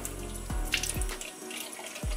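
Warm water runs steadily from a kitchen tap in a continuous splashing stream, with a few short clunks and gurgles as the flow shifts.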